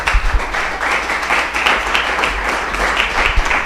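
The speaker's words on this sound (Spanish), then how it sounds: "¿Pueden darle a Dios un aplauso por esto entonces?" A church congregation breaks into applause, a dense wash of clapping from many hands that holds fairly steady for a few seconds, with some louder claps standing out near the front.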